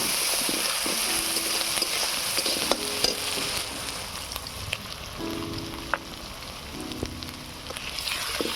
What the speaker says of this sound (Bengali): আদা রসুন পেঁয়াজটাকে লাল লাল করে ভেজে নেবো